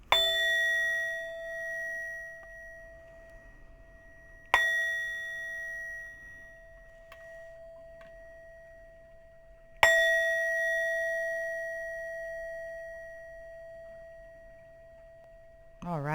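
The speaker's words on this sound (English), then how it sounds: "We're going to go ahead and use the frequency bowl to get started with cleansing the energies within myself and the room" Frequency singing bowl struck three times, each strike a bright metallic ding that rings out with a long, slowly fading sustained tone before the next hit; faint background hum underneath.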